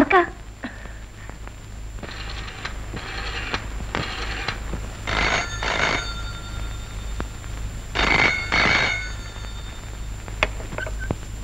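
An old telephone rings indoors in short repeated bursts, pausing between rings, with a steady room hum underneath and a few brighter, louder rings toward the end.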